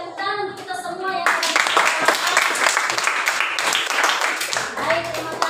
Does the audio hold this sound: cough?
no